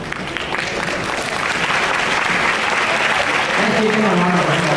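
A crowd at a student council investiture ceremony claps continuously in a dense, loud wash of applause, with voices faintly mixed in underneath.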